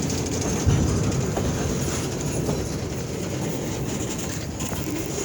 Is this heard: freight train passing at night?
yes